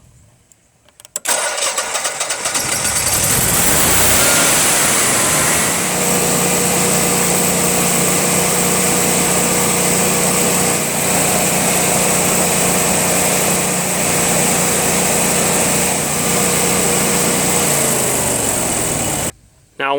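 A Generac Honeywell 60341 generator with an RPM sensing fault cranks and starts, then settles into a loud, steady, close engine drone for most of the time before cutting off abruptly near the end.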